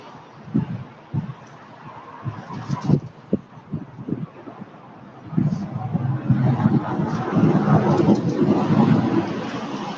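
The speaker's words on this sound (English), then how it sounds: "That wind. The other day it wasn't that windy." Cold wind gusting outdoors in Oklahoma, a low rushing roar that swells to a steady blow in the second half, with muffled voices and scattered thumps earlier.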